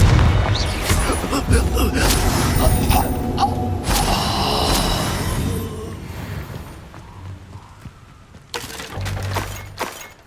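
The Confringo explosive spell goes off in Hogwarts Legacy as a string of booming blasts and shattering, cracking impacts. It is loud and dense at first and fades into quieter rumbles, with a brief shouted voice over the top.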